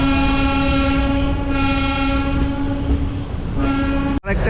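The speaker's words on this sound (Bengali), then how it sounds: "এবার ট্রেনটা ঘুরে সোজা চলে যাবে এদিক।" A train passing through Barsoi railway station sounds a long, loud horn over the steady rumble of the rolling wagons, close by and with no voices.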